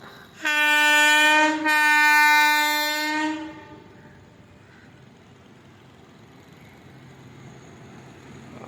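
A loud electric locomotive horn blares twice in steady harmonic blasts, then cuts off, leaving a low rumbling background of the passing train at a small railway station.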